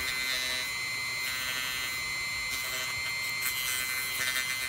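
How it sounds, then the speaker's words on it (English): High-pitched whine of a Dremel rotary tool at low speed cutting plastic clips on a 2008 Lincoln Navigator coolant tee, a close, thin buzzing that wavers slightly as pressure changes. "I'm just going to take the Dremel and buzz down both sides right here, gently on a real low speed RPM"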